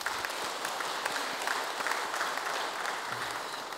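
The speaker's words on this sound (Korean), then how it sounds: "우리 감사의 박수 한번 더 할까요?" Congregation applauding in a church during an Easter Sunday anniversary service, a steady wash of many hands clapping at moderate level throughout, with no voices on top.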